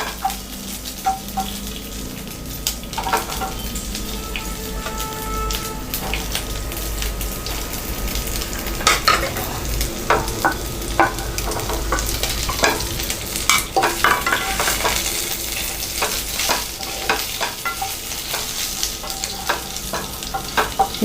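Uppu kozhukattai dumplings being mixed in a hot pan with the gas turned off, a close, continuous crackling sizzle with frequent stirring scrapes and clicks of the spoon that grow busier toward the end.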